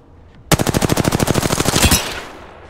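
A rapid burst of automatic gunfire in a squad-based shooter video game, about twenty loud, evenly spaced shots fired in quick succession for roughly a second and a half, then cutting off.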